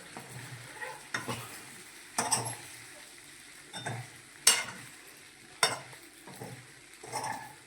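Chili powder being stirred into an idli mixture in a pan, heard as a series of spoon scrapes and knocks against the metal over a faint sizzle, close and irregular.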